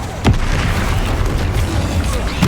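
A Confringo blasting spell in Hogwarts Legacy explodes in a loud, full boom with dense rumbling, and a couple of sharper bursts stand out in the steady roar.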